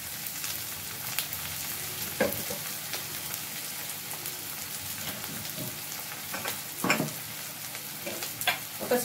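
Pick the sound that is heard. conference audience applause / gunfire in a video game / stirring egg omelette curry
stirring egg omelette curry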